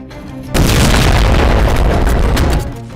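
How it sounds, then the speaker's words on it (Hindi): An Israeli airstrike bringing down a building, heard as a sudden, massive close boom that roars and rumbles for about two seconds before tapering off. "ये इजरायली एयर स्ट्राइक का वीडियो है, जिसमें आईडीएफ ने एक इमारत को जमींदोज कर दिया।"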